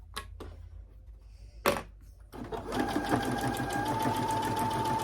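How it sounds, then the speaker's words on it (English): A sewing machine stitches a pillowcase: a couple of sharp clicks and taps first, then the motor whirs into a steady, close, rapid stitching rhythm that carries on to the end, with no talking. "So start sewing. Sew a couple of stitches, do a back stitch."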